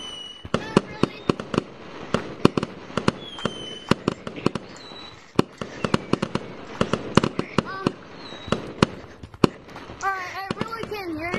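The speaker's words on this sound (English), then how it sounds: "Fireworks are so loud." Fireworks bursting in a Gorilla Tag beach setting: a steady run of sharp, loud cracks and pops, some in quick clusters, with fizzing trails and a voice briefly chattering near the end.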